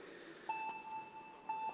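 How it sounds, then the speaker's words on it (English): At a speed climbing final, the start signal sounds as a short run of three electronic beeps, the last one longest, clean and fairly quiet over a low hum of background noise. "both athletes must wait for the buzzer before going"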